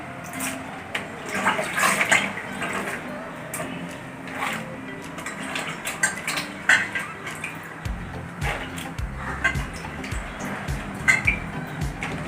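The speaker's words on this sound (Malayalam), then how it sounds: "നമ്മളിത് രണ്ട് പ്രാവശ്യം നന്നായി കഴുകാം" Green chillies being washed in water in a kitchen, with splashing, sloshing and clinking of a bowl or pot, steady rinsing sounds throughout and no talking.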